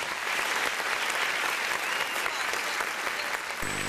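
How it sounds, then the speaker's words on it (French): An audience at a school quiz match applauds the jury members in a steady, dense burst of clapping that continues for several seconds, then cuts off. "Sous vos applaudissements, s'il vous plaît"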